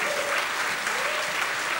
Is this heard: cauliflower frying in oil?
no